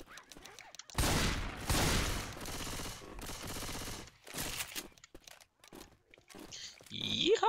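Rapid bursts of automatic gunfire in Left 4 Dead 2, loud and close, in two long volleys followed by scattered shorter shots, with a voice briefly heard near the end.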